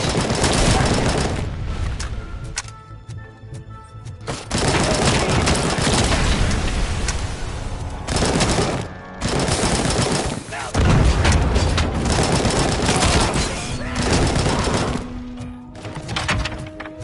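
Gunfire in the video game Robocop: Rogue City roars in dense, loud volleys with heavy booms and crashing impacts, broken by brief lulls, all up close and continuous.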